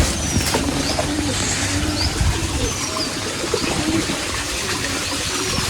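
Pigeons gathered in a village well, giving soft repeated coos amid a continuous low wash of water and ambient noise, with no talking.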